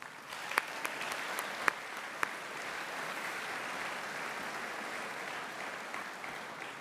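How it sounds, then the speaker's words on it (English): A large crowd at an annual Chocolate Ball fundraising gala gives even, continuous applause for donors and supporters, with a few sharper individual claps standing out near the beginning. "Please join me with a round of applause to recognize all our donors and supporters."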